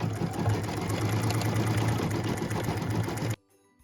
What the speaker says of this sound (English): Machine step number 10 is stitching the snow fill on the bottom of the snow globe, and this is done in white